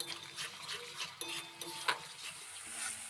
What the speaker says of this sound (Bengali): মশলাটা এইভাবে একটু কষিয়ে নিয়ে